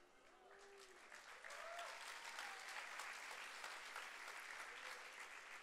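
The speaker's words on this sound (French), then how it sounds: "Merci pour vos applaudissements." Sustained audience applause at an evening gathering, dense and steady clapping rising slightly after a second and holding loud throughout, with faint voices and cheers mixed into the crowd noise.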